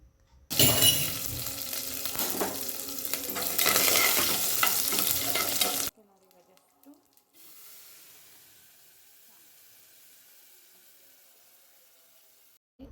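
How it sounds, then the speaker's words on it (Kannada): Lentils, garlic and curry leaves crackle and sizzle loudly in hot oil as a tempering for vegetable sambar, a dense frying hiss lasting about five seconds before dropping abruptly to a faint, quiet hiss. "ಬೇಳೆ ಹಾಗೆ ಬೆಳ್ಳುಳ್ಳಿ ಕರಿಬೇವು ಇಷ್ಟನ್ನು ಒಗ್ಗರಣೆಗೆ ಸೇರಿಸ್ಕೊಂಡಿವಿ"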